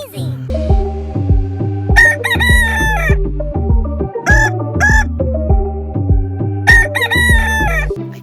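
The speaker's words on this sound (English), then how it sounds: "This one is a rooster." A rooster crows loudly and close by, several drawn-out cock-a-doodle-doo calls in a row.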